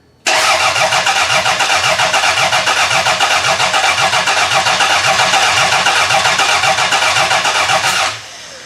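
After fuel pump work, a car engine cranks loudly and steadily on the starter for about eight seconds in a fast rhythmic churn without catching, then the cranking cuts off.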